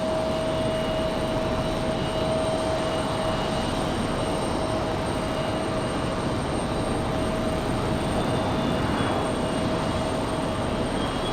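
Cessna Citation business jet with gear down flying by at Raleigh-Durham International Airport, a steady loud broadband jet roar with a constant whining tone, unchanging across the whole stretch.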